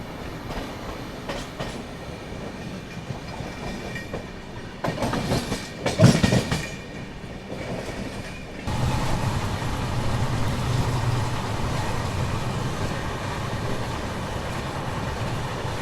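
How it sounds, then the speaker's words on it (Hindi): Maharashtra Express passenger train running on rails in India, a steady rumbling roll with a louder passing burst midway, then continuous clatter of wheels over track. "कलम तक खैर इस पर ट्रेन अभी जा रही है।"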